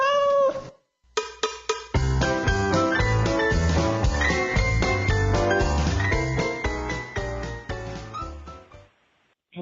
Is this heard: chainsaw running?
no